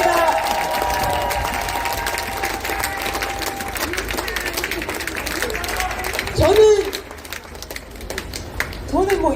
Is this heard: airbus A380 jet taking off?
no